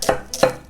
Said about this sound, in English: Do a little julienne. A little slicey. Right in the bowl.